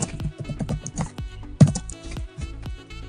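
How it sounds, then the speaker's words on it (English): Rapid, uneven keystrokes on a Chromebook keyboard while HTML code is typed, crisp plastic clicks close up with one louder key strike midway, no voice. "when I'm typing up some HTML codes"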